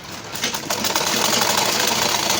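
A sewing machine runs continuously while stitching a blouse sleeve and side seam, giving a loud, close, steady mechanical whir with rapid needle chatter.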